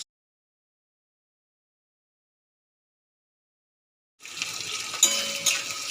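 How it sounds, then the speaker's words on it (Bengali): Capsicum and onion frying in a pan, a soft steady sizzle with faint stirring and utensil clinks that starts abruptly after four seconds of silence and carries on to the end. "এই দেখো, ক্যাপসিকাম আর পেঁয়াজটা মোটামুটি ভাজা হয়ে গেছে"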